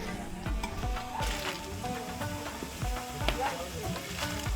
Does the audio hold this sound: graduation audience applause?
no